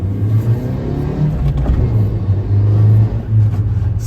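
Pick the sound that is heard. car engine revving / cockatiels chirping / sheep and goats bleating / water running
car engine revving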